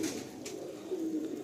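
A Kagji pigeon among Murshidabad fancy breeds coos in a low, steady murmur close by, with faint background noise and no talk.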